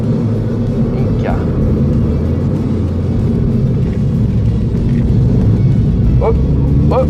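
A Ford Fiesta ST Mk8 with its three-cylinder engine pulls hard under acceleration, a loud, steady interior drone and road rumble running the whole time, with a few brief rising whine sweeps near the end.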